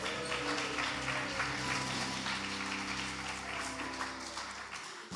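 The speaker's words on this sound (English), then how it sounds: "A big round of applause for our blind men." Applause from a church congregation at a Sunday service, a steady dense clapping that fills the room, sustained without talk and tapering slightly at the end.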